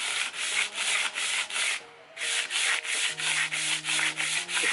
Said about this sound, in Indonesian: yang pertama untuk yang amplas grid 80 ya